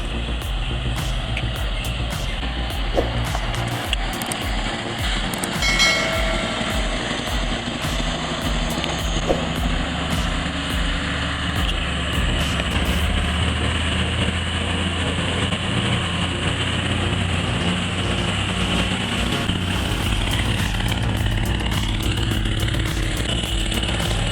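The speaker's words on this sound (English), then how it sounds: "The heavy timber truck approached the curve, but under the skillful control of the driver, it moved smoothly like a giant snake." An Unimog 406 Forestier heavy timber truck with a heavy load drives steadily through a curve, its engine a continuous loud rumble throughout, with brief rattles and clanks partway through and no speech.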